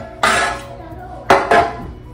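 Freshly baked banana bread with dried apricot set down on a metal wire rack: three sharp clattering knocks, one alone and then a quick pair close together, near and fairly loud.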